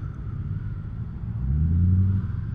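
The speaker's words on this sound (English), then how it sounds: "That rumble, I think, is from that nice V8 5-litre BMW in front of me." A BMW 5-litre V8 car engine gives a low rumble that swells and deepens toward the middle, heard near and moderately loud from behind a motorcycle on the road.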